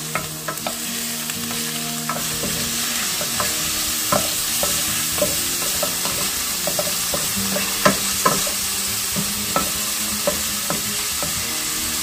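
Pork belly (liempo) fries in a little oil in a pan, giving a steady close sizzle with frequent sharp pops and spatters throughout.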